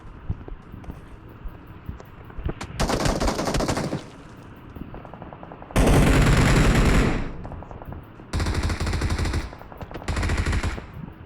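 Sniper gunfire in a video game comes as loud, dense blasts of shooting in several separate bursts, each lasting a second or two, over a steady low background rumble.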